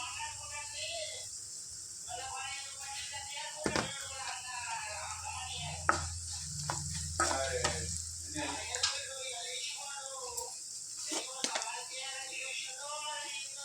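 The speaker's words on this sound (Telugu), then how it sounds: "కొద్దిసేపు మూత పెట్టి సిమ్లో ఆనియన్స్ ఉడకనిద్దాం" Onions cooking on low heat in a covered pan for an egg and ridge gourd curry, a soft steady sizzle with occasional clinks and faint stirring sounds, a low voice murmuring underneath.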